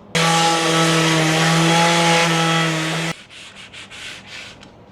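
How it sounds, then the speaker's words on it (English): Rhythmic rasping strokes of 220-grit sandpaper on teak follow a loud, steady machine whine, each stroke a short scratchy burst. "I've sanded it with the last stage of the sanding, 220 grit sandpaper"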